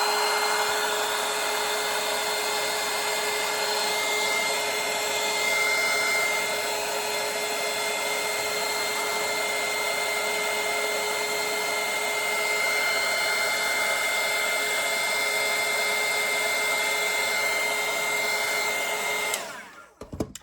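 A hair dryer drying a watercolor painting runs in one steady, close, whirring blast for about twenty seconds, then switches off abruptly.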